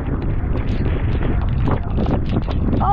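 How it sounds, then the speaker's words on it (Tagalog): Strong typhoon wind roars and buffets the microphone in a dense, continuous rush during a flood, loud and close throughout the short stretch. "Lakas ng hangin."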